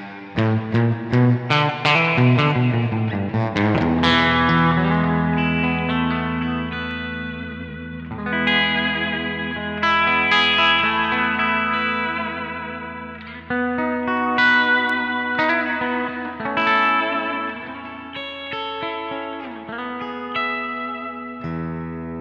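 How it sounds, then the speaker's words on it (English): Electric guitar chords through a Quilter amplifier's built-in reverb ring out with a lush reverb tail washing behind each strum, sustained and fairly loud throughout. "it is a very nice sounding reverb"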